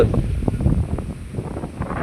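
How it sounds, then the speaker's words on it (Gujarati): Strong gusting wind storm sweeping across a farm, a steady broadband roar with rising and falling gusts buffeting the microphone throughout, no voices. "જુઓ મિત્રો એટલો પવન છે"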